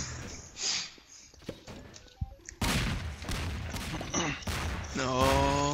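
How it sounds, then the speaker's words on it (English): Cartoonish explosions and bursts from a Mario-themed bomber video game, a burst of rapid popping blasts followed by sustained loud booming and crackling, with a rising tonal jingle near the end. "Explosions."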